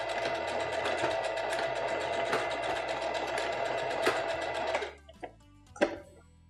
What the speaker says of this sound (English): And sew that to the end of the casing as well.